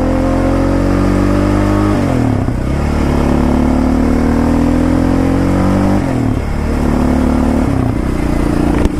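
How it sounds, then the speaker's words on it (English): Quad ATV engine revs up loud and close, dropping pitch twice as the rider shifts gears from second into third, then climbing again steadily without any talk. "So let's try shifting from second gear to third gear."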